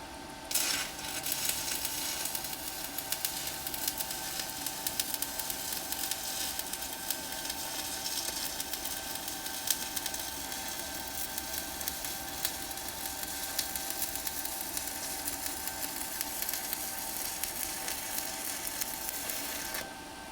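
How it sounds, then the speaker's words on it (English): Stick welding with a Harbor Freight Titanium Unlimited 200 welder, a steady crackling sizzle of the arc running continuously and evenly with a faint electrical hum underneath. "I'll put some videos of it stick welding in probably right about now."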